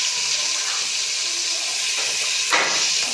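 Spice masala with red chilli, turmeric and salt roasts in a pan for potato kebabs, giving a loud, constant close-up hiss. A brief stirring scrape breaks through near the end, with no voices.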